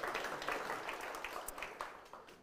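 An audience applauds at the 2024 New Zealand Hi-Tech Awards event in Auckland. The clapping is faint and distant, a steady patter lasting the whole moment with no voices over it.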